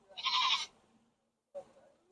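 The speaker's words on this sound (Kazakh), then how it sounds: "Жақсы, бағалған қойлар." Goats and sheep bleat at a livestock market in Kyzylorda: one loud, rough, drawn-out call, a short pause, then a second, fainter bleat, close by with no talk.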